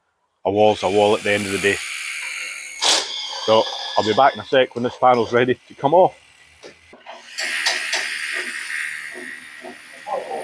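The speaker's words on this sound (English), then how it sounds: "that noise you hear is the guy down the far end putting the holes in the wall for the rebar" A drill rasps into a concrete wall, boring holes for rebar at the far end of a house build site in Thailand. It sounds as a steady, distant grinding that starts partway through and continues behind someone talking.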